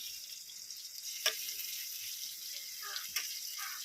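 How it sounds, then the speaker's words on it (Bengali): Ground spice paste of green chilli, cumin, coriander and chilli sizzles steadily in a pan for a village-style Bengali black rooster curry, a soft continuous frying hiss with two brief louder stirring scrapes, no talk. "মশলাটাকে ভালো করে কষিয়ে নেব"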